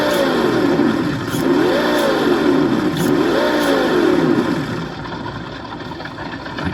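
An Axial SCX10 II F100 RC car's electric motor revs hard at full throttle, a loud whining pitch that rises and falls in two surging sweeps before easing off toward the end, with no voices.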